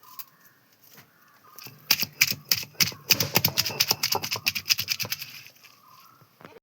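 Shallots and tamarind crushed with a pestle in a Kerala kitchen: a dense burst of rapid, close pounding knocks, with a quieter stretch at the start and end.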